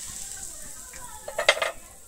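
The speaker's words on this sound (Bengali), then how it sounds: "আমার শুকনো লঙ্কা আর কালো জিরেটা কিন্তু খুব সুন্দর ভাজা হয়ে গেছে" Dried red chillies, nigella seeds and a pinch of asafoetida frying in oil for a Bengali pointed gourd bharta, a soft steady sizzle with a cluster of sharp utensil clinks and stirring near the end.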